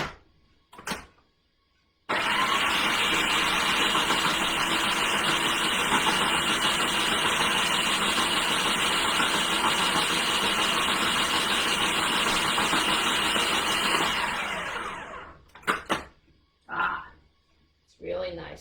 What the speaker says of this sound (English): Okay, so the final blending.